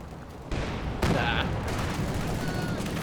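Anti-tank grenade strike in a Company of Heroes 2 style match, a dense burst of explosive game combat noise that jumps louder after a second and holds steady under the battle din.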